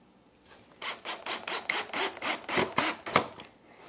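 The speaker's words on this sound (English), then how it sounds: "now I can take the clamp off and do the other number 8 screw" A number 8 screw driven into wood at a workbench, a quick series of about ten rasping, ratcheting turns close up, alone.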